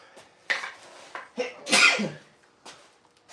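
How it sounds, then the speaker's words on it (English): A few quiet breaths lead into one sharp, close sneeze, followed by soft rustling and a faint breath afterward. "I'm gonna sneeze. Hold on."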